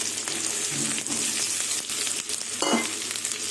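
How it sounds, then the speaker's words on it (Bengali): Shrimp frying with onion, ginger, garlic and chili crackles and sizzles loudly in a pan, with stirring scrapes breaking through the steady hiss and a sharper spatter near the end; no voices. "চিংড়ি মাছ পেঁয়াজ আদা রসুন লঙ্কা সব একসাথে ভালো করে ভেজে নেব"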